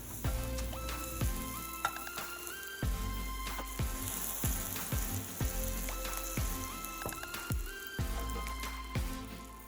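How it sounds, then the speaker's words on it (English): A Trader Joe's vegan burger patty fries in a hot pan, giving a continuous loud sizzle dotted with sharp crackles and pops, with no talking. "added my Trader Joe's burger patty to the pan"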